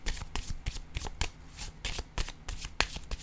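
Tarot cards being shuffled and set down on a surface, a quick run of crisp riffling flicks and soft slaps, close and fairly loud, with no talking.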